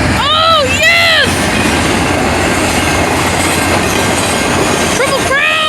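A passing train roars loud and close, a dense wash of rolling wagon noise with high wheel squeal, while excited voices shout over it.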